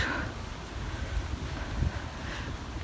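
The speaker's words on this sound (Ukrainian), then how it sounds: "Дуже-дуже сьогодні вітряно." Steady wind rumbles and buffets against the microphone outdoors on a hill in Prague, a constant low roar with gusty swells and no voices.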